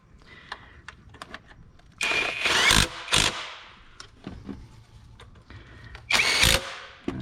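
Power tool working the bolts on a Ford Mustang water pump: two loud whirring bursts of a couple of seconds each, set among softer clicks and clatter of handling nearby.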